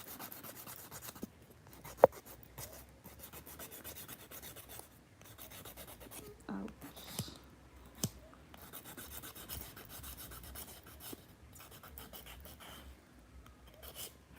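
Fingernails filed with a nail file during an at-home manicure, a soft uneven rasping that comes and goes over about fourteen seconds, faint and close, with a few sharp clicks and knocks and no talking.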